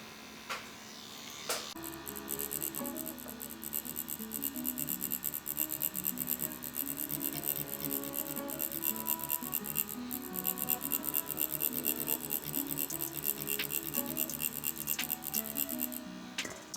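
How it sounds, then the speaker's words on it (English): A Dragonhawk Mast Tour wireless tattoo machine, a permanent makeup pen running at 6 volts, gives a steady, fairly quiet electric buzz with a faint whine that holds evenly throughout, after a couple of brief clicks at the start. "The tattoo machine has little noise,"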